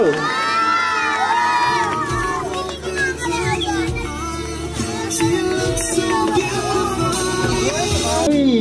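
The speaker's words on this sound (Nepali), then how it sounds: "ताली ताली दिनु पर्यो के, ताली अलिक चिच्याउनु पर्यो," Guests at a Nepali couple's wedding reception clap and cheer loudly nearby, with excited shouts and whoops rising above steady crowd noise throughout.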